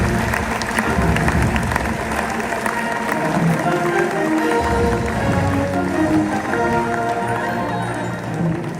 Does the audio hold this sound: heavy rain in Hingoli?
no